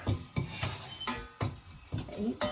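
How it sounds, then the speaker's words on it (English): Crushed Saveiyaa vermicelli is stirred in melted ghee in a pan, giving a regular rhythm of close scraping strokes about twice a second, with faint sizzling between them and no speech. "Make sure you keep on stirring because that's important, otherwise it will burn"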